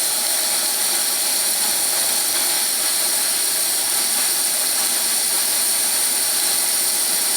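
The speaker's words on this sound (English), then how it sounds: "The stove puts out a beautiful flame. It's a lot of power." A Coleman Exponent 550B single-burner camping stove burns at full power, giving a loud, steady roaring hiss close by that holds without change, with no talk.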